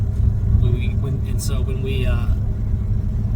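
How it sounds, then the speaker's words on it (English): A car driving, heard from inside the cabin as a steady low engine and road rumble throughout, with a voice talking over it. "Sorry, I'm driving."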